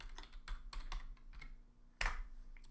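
Fingers typing on a computer keyboard while entering a chart axis title in Excel, with a quick run of light clicking keystrokes followed by a sharper, louder key press near the end, close up and without speech.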